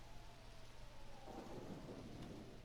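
Thunderstorm with rain in Pokemon Mystery Dungeon Explorers of Sky, a steady rain hiss under a deep rolling rumble of thunder that swells midway through.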